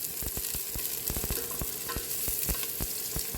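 Cabbage, green beans and carrot being stir-fried in a hot pan: a steady loud sizzle runs throughout, broken by repeated sharp scraping clacks of the spatula against the pan as the vegetables are tossed.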